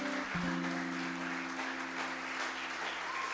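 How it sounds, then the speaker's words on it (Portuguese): A church congregation applauds in a steady, dense wash of clapping, with sustained keyboard tones ringing underneath. "Aplauda ao Senhor"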